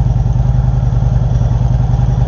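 A Harley motorcycle engine idling up close, a deep, loud, lumpy rumble pulsing in a steady uneven rhythm.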